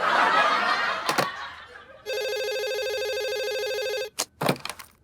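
A telephone rings with one long, steady electronic trill, set between bursts of laughter and short knocks or clatters, nearby and fairly loud.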